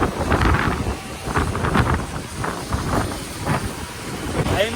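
Strong storm wind buffets a car from outside, gusting and roaring in uneven surges with heavy low rumble on the microphone, continuous throughout.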